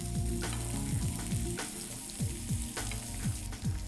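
Taro chops coated in chili powder frying in plenty of hot oil, a steady close sizzle with quick stirring scrapes breaking through now and then, no voices.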